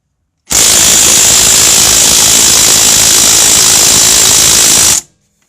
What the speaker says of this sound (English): it's not the most powerful impact gun, but it does 210 foot-pounds, and it doesn't even move it